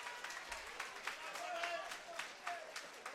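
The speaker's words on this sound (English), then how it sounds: "a massive round of applause for both of our fighters" Applause from a live boxing crowd after a fight, a steady patter of many hands clapping at moderate distance with crowd noise, beneath a voice talking.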